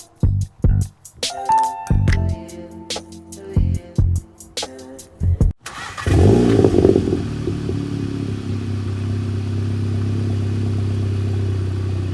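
A 2019 Volkswagen GTI Rabbit Edition tuned by EQT: sharp clattering and knocking transients for several seconds, then the engine starts with a loud burst and settles into a steady, close idle drone.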